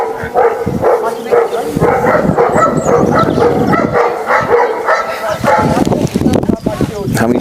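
Two dogs bark and yip repeatedly close by during a police arrest, mixed with people talking over them throughout.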